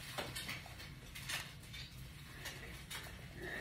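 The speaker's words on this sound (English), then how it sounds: "My son's over there frying up an egg at 2:30 in the afternoon." Pots, pans and utensils clatter faintly in a distant home kitchen where an egg is being fried, with scattered clinks and knocks over a sizzling background hiss.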